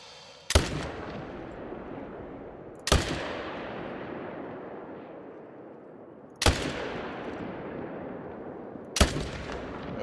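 Four loud rifle shots ring out in the hunting game theHunter: Call of the Wild, each a sharp crack followed by a long rolling echo fading across open terrain, spaced a few seconds apart.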